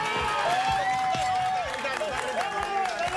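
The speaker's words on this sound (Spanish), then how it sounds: "Aplausos, aplausos, no griten." Audience applause at a beach casting show: scattered claps and crowd noise sit beneath a loud, animated voice that talks over them the whole time.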